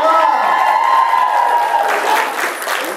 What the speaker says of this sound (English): give a big round of applause to Bandai